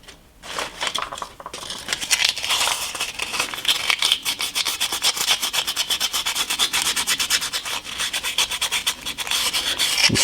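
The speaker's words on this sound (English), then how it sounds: "we'll sand the inside of that smooth" Small cut-out boat part for a model railroad sanded on its inner edge, a fast rhythmic rasping scrape repeated steadily and close up with no talking.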